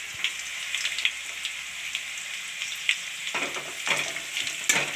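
Onions fry in a pan for a garlic and red chili masala, giving a steady bright sizzle throughout with a few soft stirring scrapes and clicks near the end; no one speaks.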